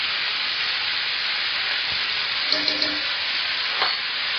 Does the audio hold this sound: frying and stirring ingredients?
yes